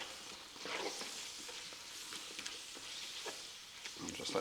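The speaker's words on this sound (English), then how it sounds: "That's been frying off for a couple of minutes now." Quiet sizzling and crackling of browned chilli con carne mince with red pepper frying in a pan, with occasional scraping stirs, soft and close.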